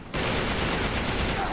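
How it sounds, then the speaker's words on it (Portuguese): Dense rapid gunfire from Drake shooting one-handed in Uncharted 3 bursts in abruptly after a brief quiet start and continues loudly and steadily to the end. "O cara tá atirando com uma mão."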